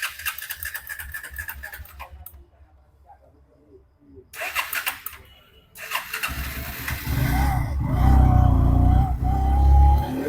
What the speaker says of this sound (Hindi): स्टार्ट करेंगे तो स्टार्ट हो जाएगा बाइक।